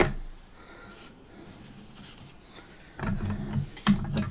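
Scissors cutting a paper hello shape for a fall greeting card, a soft rasping snip that is faint at first, then grows louder and closer with a few sharper crunches near the end.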